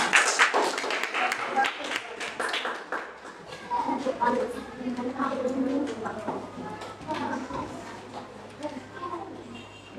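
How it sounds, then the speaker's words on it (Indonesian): A school class claps together in a classroom: a dense, busy patter of many hands over the first few seconds, then fading as a teacher's voice and chatter take over. "Tepuk tangan untuk kita semua."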